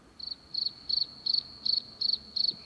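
Crickets chirping in steady, evenly spaced pulsed trills, seven bursts in a regular rhythm, moderately quiet and alone with no talk.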